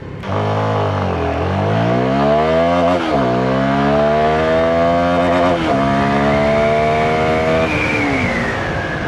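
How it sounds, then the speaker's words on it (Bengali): A CF Moto NK300 motorcycle accelerates hard through several gears, its engine note climbing steadily and dropping at each shift, loud and close throughout with no talk over it. "এই বাইকটাতে বসে আপনি প্রথম যে জিনিসটা ফিল করবেন এটার মারাত্মক অ্যাক্সিলেশন"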